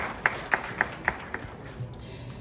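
At a public launch event in Ghana, a guest is honoured with a short run of about five evenly spaced hand claps, followed by faint room noise.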